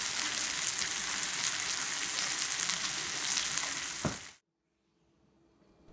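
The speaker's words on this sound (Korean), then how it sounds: "치즈가 녹아서 지글지글 소리 나면 한번 뒤집어서 반대쪽도 익혀주고" Cheese and tuna tortilla sizzling loudly in a frying pan, a dense, steady crackle that cuts off abruptly near the end, leaving near silence.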